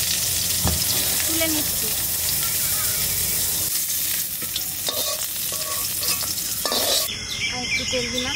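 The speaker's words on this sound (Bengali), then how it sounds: "ফুলকপিটা ভাজা হয়ে গেছে" Cauliflower fries in oil in a pan and is stirred, a loud continuous sizzle with spatula scrapes and clinks, and a brief spoken remark near the end.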